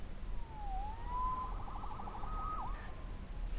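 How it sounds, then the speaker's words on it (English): Police siren from the Spider-Man PS4 video game, a single rising and wailing electronic sweep with a warbling stretch, faint and somewhat distant over a low background hum. "Saved by the siren."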